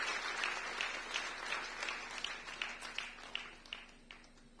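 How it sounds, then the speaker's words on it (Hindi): An audience at a district dialogue event applauds for an honoree, a moderate crowd clapping with individual sharp claps standing out, fairly distant and thinning toward the end. "और जोरदार तालियां बहादुर अली जी की।"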